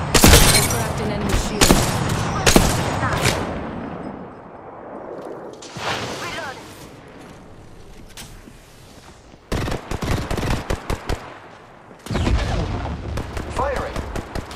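Video game gunfire from an online shooter fills the scene with loud, rapid bursts of automatic fire, layered shots and booms, pausing briefly before the firing resumes.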